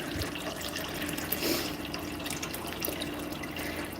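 A water cooler dispenses a steady stream of water into a cup, making a continuous, close running and filling sound that holds evenly throughout, with no talking.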